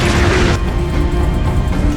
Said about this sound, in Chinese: 直接把一旁的煤气瓶打爆